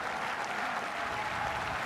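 Rugby stadium crowd at a Super Rugby match between the Sunwolves and the Jaguares, a dense, steady wash of applause and cheering filling the whole stretch, loud and continuous with no break.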